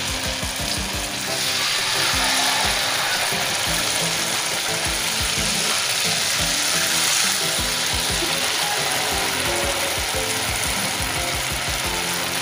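Fritter batter made with oil palm mushrooms frying in hot oil, with a loud, steady crackling sizzle and dense popping throughout, no voices.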